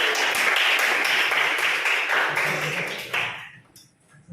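A burst of group applause in a classroom, steady clapping from many hands that fades out over a few seconds.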